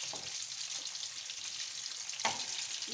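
Food fries in a pan with a steady sizzle, while scraping stirs and one sharper clatter mark it being turned over partway through.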